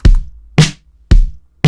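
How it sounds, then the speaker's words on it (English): Indie pop drum pattern built in FL Studio, alternating a light thumping acoustic kick with a lo-fi indie snare, two kicks and two snares in steady rhythm, loud and dry with no talking. "It's a light thumping acoustic kick with this snare."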